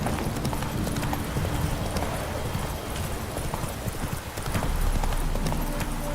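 A horse gallops in The Witcher 3 video game, rapid rhythmic hoofbeats clip-clopping continuously and loud over a rushing ambient background, with no speech.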